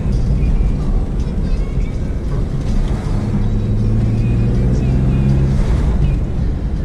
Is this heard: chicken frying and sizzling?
no